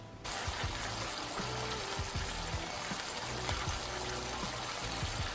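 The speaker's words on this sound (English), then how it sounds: "since I already put oil into the pan, I'm going to go ahead and just fry it up" Turkey bacon frying in an oiled pan, a steady close sizzle and crackle with scattered pops and spits running the whole time.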